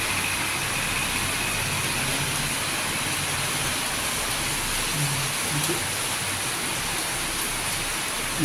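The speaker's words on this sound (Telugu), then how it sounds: "ఏలూరులో భారీ వర్షం." Heavy morning rain pours in Eluru, heard from a residence balcony as a dense, steady hiss close by, with a faint low engine rumble underneath and no voices.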